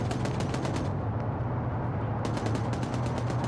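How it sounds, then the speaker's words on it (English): Heavy .50 cal machine gun fire from the video game Arma 3 pours in as a dense, continuous stream of rapid bursts. It is loud and sustained for the whole stretch, with no speech over it. "now we're getting some 50 cal fire coming in"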